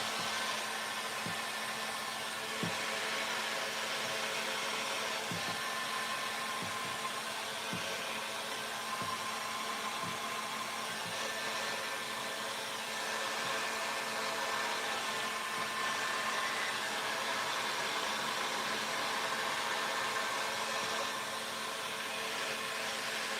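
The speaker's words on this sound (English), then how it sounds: "Now I have my heat gun today on 360 degrees, and I'm going to put it on a fan speed of 3." Heat gun set to 360 degrees on fan speed 3 blowing across resin to pop foam for an ocean effect, a steady whirring airflow hum lasting throughout with faint ticking underneath.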